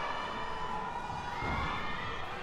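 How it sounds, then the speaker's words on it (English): Brazilian supporters in an arena crowd at a Pan American Games artistic gymnastics event finals, clapping and cheering in a dense, continuous roar of applause and shouts. "The Brazilian supporters are already clapping and cheering."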